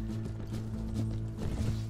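Cavalry horses galloping in the Mount & Blade Warband video game with the A World of Ice and Fire mod, a continuous rumble of hoofbeats over a low steady hum in a battle.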